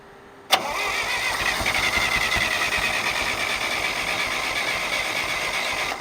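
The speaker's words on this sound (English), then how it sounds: "Let me crank on it, see if she starts pulling fuel." A John Deere 1010 tractor engine on full choke cranks and catches after a sharp start, then settles into a loud steady rhythmic chugging, close by, with no talk.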